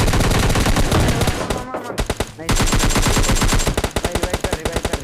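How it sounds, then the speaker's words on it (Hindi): Rapid bursts of automatic gunfire from the PUBG Lite video game crackle loudly and close. The shots come in dense strings, break off for a moment, then return as a fast run of distinct cracks. "पर आप लोग जरा गनशॉट के आवाज सुनो"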